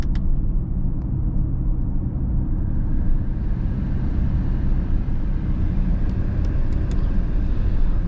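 A 2021 Mercedes-AMG GLE 53 Coupe cruises in sport mode, heard from inside as a steady, loud low engine and road rumble with a few faint clicks near the end and no talk.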